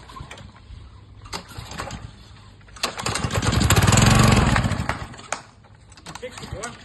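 A small gasoline pressure washer engine with a new spark plug cranks and catches, swelling into a loud running roar for a couple of seconds before dropping back, amid rattling pulls and clatter.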